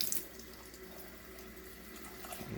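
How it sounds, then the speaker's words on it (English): Tap water running steadily into a blender jar while a beet smoothie is made, a soft continuous splashing stream at close range with no talk. "Just add a little water here."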